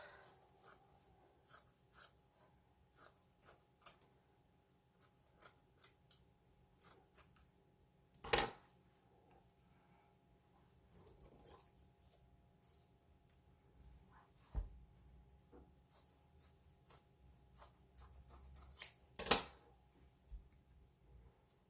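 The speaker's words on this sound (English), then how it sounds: "So I'm just going to cut this sock in half." Scissors snipping through a sock, a run of crisp rhythmic close-up cuts with a few louder handling clacks, quiet room otherwise.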